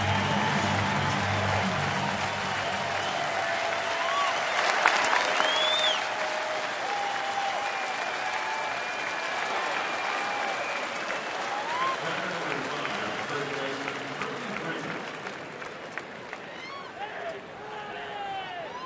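A baseball crowd at a Milwaukee ballpark rises to its feet in a sustained standing ovation for Chipper Jones, steady applause and cheering filling the whole stretch with a few brief shouts.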